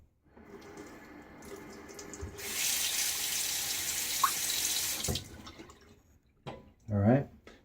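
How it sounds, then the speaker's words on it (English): Tap water runs into a sink for rinsing after a shave, a steady hissing stream for a couple of seconds that then stops, followed by brief splashing and a few drips. "So I'm going to rinse now."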